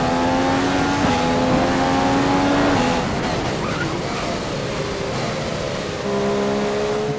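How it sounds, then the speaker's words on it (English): A race car in a sim racing game at a Belgian circuit roars at high revs, the engine note dropping under hard braking with lockup squeal and downshifts, then climbing again; loud, continuous, no talk. "As you can hear, I still struggle with brake lockups in this game."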